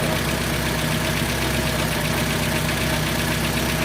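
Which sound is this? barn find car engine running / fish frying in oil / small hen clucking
barn find car engine running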